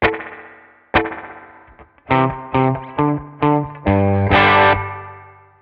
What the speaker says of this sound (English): we've given you a spring verb as sort of the always on, smaller type of a reverb